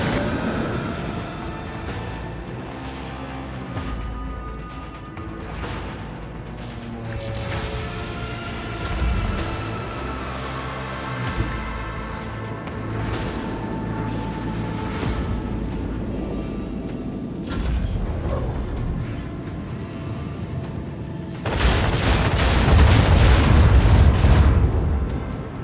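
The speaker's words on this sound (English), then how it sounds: "Torpedoes launched!" Torpedoes launch and explode in a space battle video game amid a dense mechanical din and rumbling. A loud, sustained broadband blast erupts near the end.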